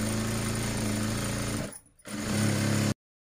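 A sewing machine runs steadily while stitching cloth for a Krishnashtami panche garment, with a brief pause just before the two-second mark, then resumes for about another second before stopping abruptly.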